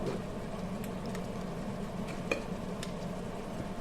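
Chicken drumsticks simmer in a pot, seasoned with stock powder, giving a low, steady bubbling hiss with a few faint clinks, quiet and continuous throughout.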